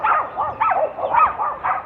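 A small dog gives a quick run of high, yappy barks and yips, close and loud, with no other sounds around it.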